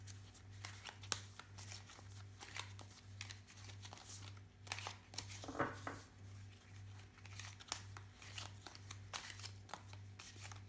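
A deck of museum-themed oracle cards being shuffled by hand, soft rapid slipping and riffling close up with a steady low hum underneath and no talking.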